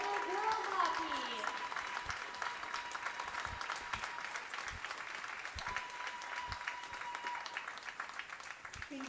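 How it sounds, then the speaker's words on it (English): Steady crowd applause at a girls' hockey game in a rink, honoring senior players' parents and family members, sustained dense clapping lasting throughout with a whistle-like tone and voices faintly mixed in. "Please join us in a round of applause for these senior parents and family members"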